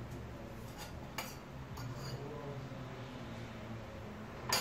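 Metal kadai being handled on a kitchen stove, a few faint light clinks and scrapes over a quiet steady background hum.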